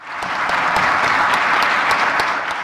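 Stormy applause fills a parliament chamber as the prime minister wraps up a program discussion: dense, sustained clapping from many hands at a steady loud level throughout.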